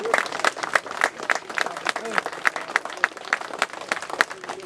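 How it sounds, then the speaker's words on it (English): An audience at a UK military vehicle reconnaissance show breaks into sustained applause, with dense, lively clapping and voices mixed in, fairly close and continuous. "Big round of applause."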